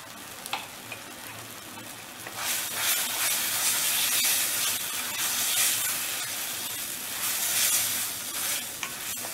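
Eggplant bharta with milk and pickle oil sautés in a pan with a steady close sizzle and hiss, while a spoon scrapes and stirs through it in intermittent strokes, with no one talking.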